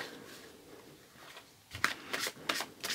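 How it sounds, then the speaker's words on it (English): Tarot cards being shuffled by hand: after a quiet stretch, a few crisp riffling bursts in quick succession, close and fairly soft. "I will shuffle."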